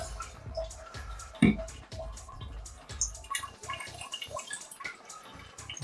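Water trickling and dripping from a remote-controlled bidet toilet seat nozzle, small irregular splashes and drips close by, with one sharper splash partway through.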